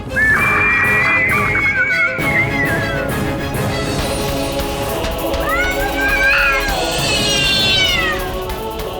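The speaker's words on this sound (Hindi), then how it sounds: "बिल्ली के रोने की आवाज।" A cat cries out in drawn, wailing meows, one early and a longer, rising series later, loud and close over a busy background.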